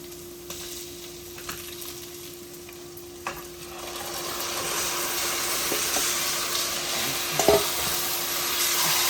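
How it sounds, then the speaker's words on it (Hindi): Steady sizzling and frying of chicken in a pan, the hiss growing louder over time, with occasional stirring scrapes and clinks. "अब चिकन भुजा रहे हैं"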